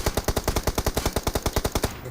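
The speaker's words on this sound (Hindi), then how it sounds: "ये देखो गोली चलाता है मेरे पे" Automatic gunfire in the mobile shooter game BGMI: a rapid, evenly spaced burst of about twenty sharp shots, loud and continuous for two seconds before cutting off.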